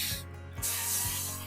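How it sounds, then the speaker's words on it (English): Avocado oil non-stick cooking spray hisses from a can in two close, loud bursts, separated by a brief clicking pause as the nozzle is released and pressed again. "I'm doing avocado spray."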